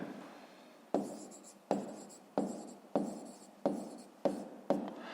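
Pen strokes on paper while working a school math exercise, a steady series of about seven short scratchy bursts at a regular rhythm, close and quiet, with no talking.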